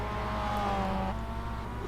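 Race car engines drone steadily in a racing video game replay at Charlotte, one sustained, fairly loud motor tone with other cars faintly behind, no voices.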